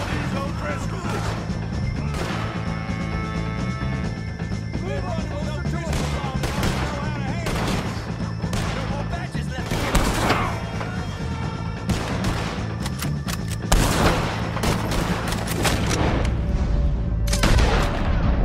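Gunfire from a shootout against the O'Driscoll gang in Red Dead Redemption 2, loud and near. The shots crack repeatedly over a dense, constant layer of game music and combat noise, and voices speak at times.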